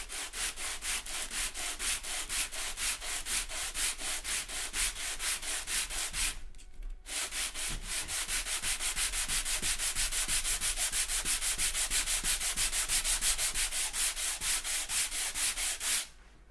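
Steady, rhythmic scraping of 80-grit sandpaper as a wooden acoustic guitar top brace is rubbed back and forth on a radius dish, close and continuous with a brief pause midway.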